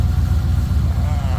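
A 1977 Ford F250 pickup's engine runs steadily with a deep, rough idle, loud and close, a constant low rumble that barely changes.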